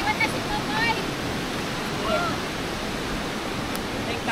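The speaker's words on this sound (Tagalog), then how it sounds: "Para makapunta dyan sa Pinsal Falls, malapitan natin." Pinsal Falls, a tall waterfall, gives a steady broadband rush of falling water that is loud and continuous, with faint voices and chirps above it.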